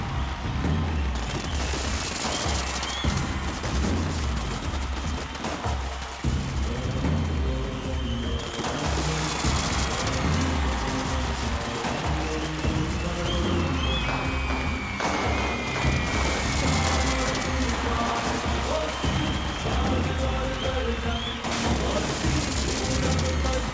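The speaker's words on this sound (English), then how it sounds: "Can I have the fireworks button, please?" Fireworks go off at a film promotion event in Mumbai, a dense crackling fusillade of pops and bangs over a loud crowd, with whistling rockets rising.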